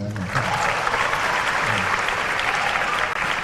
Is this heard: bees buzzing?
no